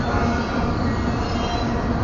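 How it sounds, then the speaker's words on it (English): An Amtrak passenger train rushing past close by at about 70 mph, a loud steady roar of wheels and rail noise with no voices. "now Amtrak's gonna pass this stack train?"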